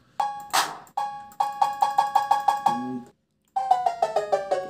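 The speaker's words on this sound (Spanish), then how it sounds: "Sonido como un timbre" Doorbell-like chime tones from the video game Red Dead Redemption 2, sounding as a series of bright, repeated ding strikes in quick rhythmic runs, with a short pause midway before another run of descending chimes.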